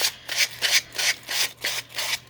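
A file rasps back and forth along the edge of a playing card in about seven even, rhythmic strokes, close and clear.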